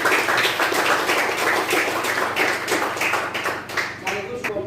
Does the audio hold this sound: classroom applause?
yes